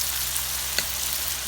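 Kachnar, orchid tree buds, frying in a pan, giving a steady close broadband sizzle with one brief sharper crackle midway, continuous and moderately loud.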